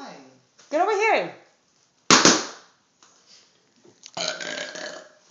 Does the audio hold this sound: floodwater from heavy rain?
no